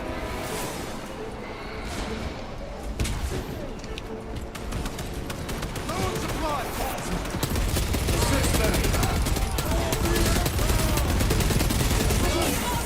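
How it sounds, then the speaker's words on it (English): Small arms fire crackles in the Space Marine video game, a dense run of shots and bursts that builds louder and fuller in the second half, with a voice talking faintly underneath. "Small arms fire."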